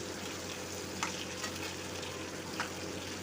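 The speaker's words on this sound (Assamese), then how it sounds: "এতিয়া মই ইয়াতে বিলাহীখিনিও দি দিছোঁ" Tomatoes sizzling in a frying pan on a steady low hiss, with a few brief soft stirring clicks near and fairly quiet, no voices.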